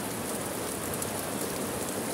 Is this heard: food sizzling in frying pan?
no